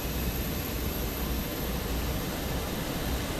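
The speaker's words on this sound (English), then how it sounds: "The APU is firing up now." A Fenix A320's auxiliary power unit spins up in a flight simulator, a steady, loud, broadband roar holding constant with no speech over it.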